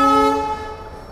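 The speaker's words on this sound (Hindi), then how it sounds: "ट्रेन खुली चुकी है" As the Delhi-Ajmer Shatabdi express departs, its locomotive horn sounds a single loud, tonal blast that quickly fades over a low rumble, with no voices.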